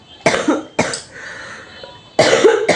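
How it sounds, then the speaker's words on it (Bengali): A woman coughs three times in harsh, loud bursts at close range, the second cough trailing into a rough throaty sound, with brief quiet gaps between them and no talk. "আবার কাশি হয়েছে।"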